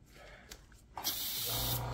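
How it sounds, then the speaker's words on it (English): A paint spray gun gives a quick test burst while aircraft paint is applied to a B-25J Mitchell, a sharp close hiss that starts about halfway through and holds steady to the end. "Do a real quick test spray, make sure I've got flow."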